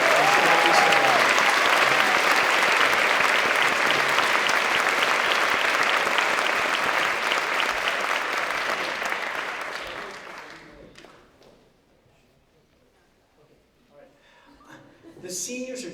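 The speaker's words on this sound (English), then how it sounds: "please, one more round of applause for Jackie and Celine" An audience at a symphonic band concert claps for two performers, a full sustained round lasting about ten seconds before dying away into near silence and faint room sounds.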